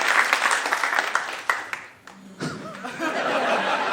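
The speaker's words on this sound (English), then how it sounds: "Give me a round of applause if you've ever heard our show Do Go On before." Live audience at a comedy podcast recording claps and chuckles, steady applause with laughter mixed in, dipping briefly midway before picking back up.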